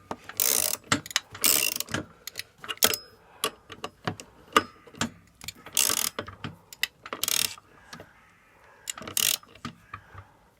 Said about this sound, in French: Avec le petit cliquet.